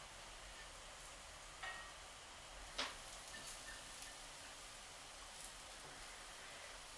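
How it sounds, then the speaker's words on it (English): Oatmeal cookie dough sizzles on a hot griddle at a campsite, a faint steady hiss with a few soft clicks and taps over it, no talking. "we're going to throw some of these on a nice hot griddle and cook them until each side is brown"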